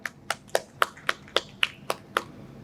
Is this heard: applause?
yes